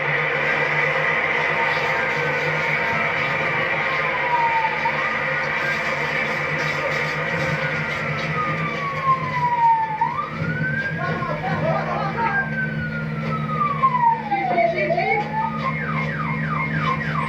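Emergency siren wailing in rising and falling sweeps, with rapid yelping bursts near the end, over a steady low rumble of traffic or engines, moderately loud and close, with no talk.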